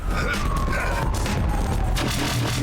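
Dense bursts of gunfire in the video game Duke Nukem: Manhattan Project crackle in rapid succession over a continuous rumble, with a faint siren-like tone sliding underneath.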